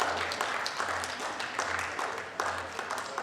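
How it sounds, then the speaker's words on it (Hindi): Audience applause greeting tabla player Mrinal Nagar at a Kathak group dance performance, steady dense clapping throughout, moderately loud and without voices. "तबला वादक है श्री मृणाल नगर, जोरदार तालियों से इनका स्वागत।"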